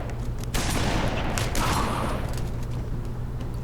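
Shotgun blast from the Halo Reach and Halo 3 multiplayer video game, a loud broadband shot near the start with ongoing gunfire and game noise continuing through the clip.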